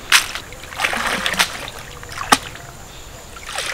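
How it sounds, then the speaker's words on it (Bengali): Water splashes as small mourala fish are swished and washed in a village pond, a run of uneven close sloshes and sharp splashes, with one crisp splash standing out, no voices. "পুকুরে মাছটাকে যদি এইভাবে নেড়ে চেড়ে ধোয়া হয়, তাহলে কিন্তু খুব তাড়াতাড়ি মাছের আঁশগুলো উঠে যায়।"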